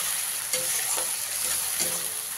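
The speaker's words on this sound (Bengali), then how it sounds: "এবারে এর মধ্যে দিয়ে দেবো টমেটো বাটা।" Tomato paste sizzling in hot oil with ginger and garlic, a steady bright frying hiss with a few soft stirring knocks, alone without talk.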